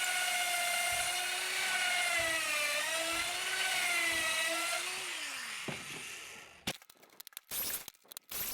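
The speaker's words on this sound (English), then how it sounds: "I can just drill them one at a time like this." A power drill whines steadily as it bores into wood, its pitch dipping under load, then stops, followed by clattering handling noises.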